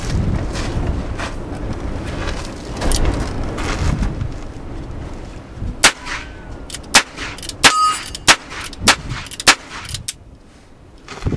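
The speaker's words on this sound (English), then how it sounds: "So let's shoot this one more time here." A Heritage Rough Rider .22 revolver is fired at an outdoor range; wind buffets the microphone at first, then a quick run of about eight sharp, loud shots rings out close by, each with a brief metallic ring.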